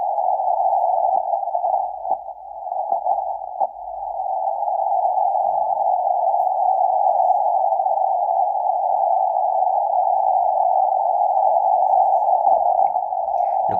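Live radio reception from an antenna near the Titanic wreck site: a steady, unbroken carrier tone holding on one pitch for the whole stretch, loud and continuous, with faint clicks and static underneath.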